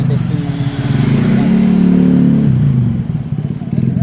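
A motorcycle engine revs during a test ride, a loud rumbling drone that swells to a sustained higher pitch and then drops back, with the rider and others talking over it.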